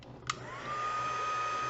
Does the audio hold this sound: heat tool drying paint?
yes